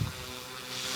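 A FlyWing FW200 RC helicopter flies outdoors on a windy day, its steady rotor whine and motor hum running continuously at moderate level and brightening slightly toward the end, with no talk.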